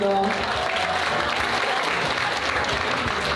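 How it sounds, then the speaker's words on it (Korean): Large audience applause at a youth foundation vision proclamation ceremony in Siheung, marking a foundation anniversary, as a dense and continuous wash of clapping that stays steady throughout. "다시 한번 큰 박수 부탁드리겠습니다."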